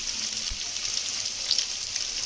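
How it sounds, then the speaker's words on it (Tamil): Garlic and shallots sauté in a pan for a garlic and small-onion kulambu, giving a steady, close hiss of frying with no speech over it. "சின்ன வெங்காயத்தை போட்டுட்டு அப்புறம் ப்ரௌன் ஆகுற வரைக்கும் நல்லா வதக்கிக்கணும்"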